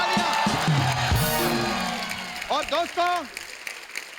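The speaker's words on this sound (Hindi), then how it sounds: "जोरदार तालियां" A studio audience at The Kapil Sharma Show, a comedy talk show, applauds and cheers, with a burst of clapping and a few whooping calls mixed under a voice addressing the crowd.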